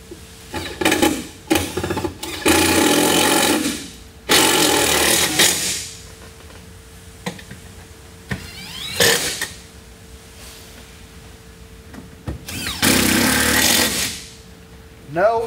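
A power driver backs T30 Torx screws out of a 2011 Cadillac SRX interior in several loud, close bursts of whirring, separated by pauses with small clicks and handling noises.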